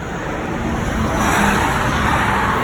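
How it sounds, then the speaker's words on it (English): Highway traffic rushes past a roadside tire change, a loud, continuous broadband roar of vehicles swelling slightly as one passes close, with no talking. "Traffic."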